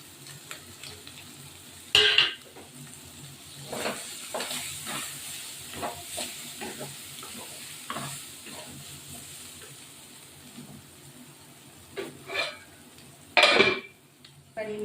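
Mustard gravy for tilapia simmers and sizzles softly in a pan, with occasional louder clanks of a spoon against the pan and intermittent stirring scrapes.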